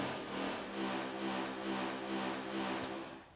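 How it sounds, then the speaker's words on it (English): A Reese bass from a synth, routed to a send with a 1973 preamp and a plate reverb, holds a thick, buzzing, detuned tone that swells slowly, then its reverb tail fades out at the end; nobody speaks. "for Reese basses it's always a good idea to give them a little bit of space, give them a little bit of reverb."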